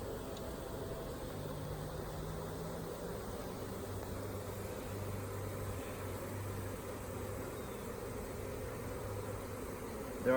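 A honeybee swarm hums steadily as it is being hived, a low, continuous multi-toned buzz of many bees, fairly faint and even, with no talking.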